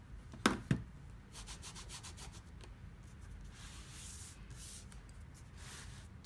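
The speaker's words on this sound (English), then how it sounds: "then I rub around the circle to get that fun look" A sponge loaded with ink is rubbed around the edge of a cut-out two-inch paper circle, giving soft, repeated scuffing strokes, faint and close, with a couple of sharper taps near the start.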